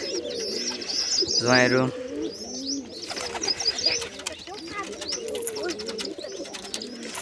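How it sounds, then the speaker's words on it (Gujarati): Pigeons cooing at a house, with a loud rhythmic coo near the start followed by softer repeated coos and chirps over busy background bird noise, while someone talks intermittently. "મિત્રો નવું કબૂતર આવ્યું છે"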